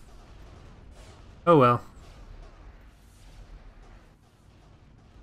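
A space station is hit by weapons fire in the Stargate: Pegasus Chronicles mod for Empire at War: one short, loud blast of impact, against quiet game ambience, with someone talking briefly.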